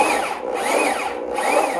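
A power drill fitted with a step bit bores into an aluminum box, giving a loud, steady whirring grind with rising and falling squeals as the bit cuts, close up and alone.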